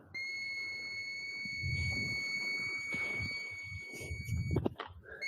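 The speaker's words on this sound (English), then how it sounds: "There's our warning bell." A steady high electronic warning tone from a workout interval timer rings continuously through the cardio round, with faint background thumps and shuffling of movement beneath it.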